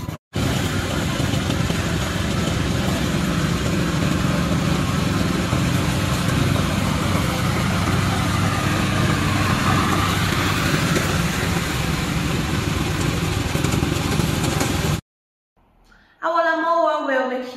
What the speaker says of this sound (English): This is our remote control mower.